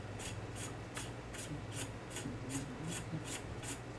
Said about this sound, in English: Then you want to take the barrel cover and screw that onto the gun.